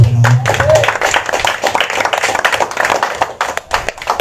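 A church congregation claps during a Holy Week sermon, a burst of many hands applauding loudly and unevenly that tapers off into scattered claps.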